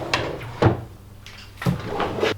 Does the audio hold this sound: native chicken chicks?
no